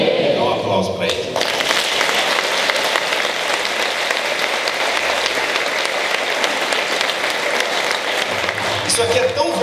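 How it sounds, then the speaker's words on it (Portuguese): A church congregation breaks into loud, sustained applause, dense clapping that continues steadily throughout, with a voice briefly at the start and end. "Dá um aplauso para ele."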